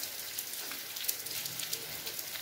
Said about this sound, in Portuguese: Muita chuva, graças a Deus.